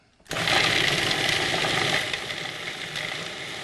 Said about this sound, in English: let's whiz this up a little bit